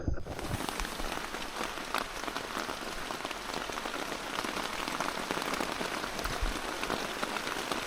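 Heavy rain drums steadily on a tent at an island canoe campsite in Yankeetown, Florida, a dense, constant patter of close raindrops with no voices.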